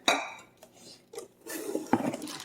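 A small KitchenAid stainless steel saucepan is set down during a cookware unboxing, giving a sharp metallic clank at the start, a few light knocks and rustles, and a second clink near the end, close and fairly crisp.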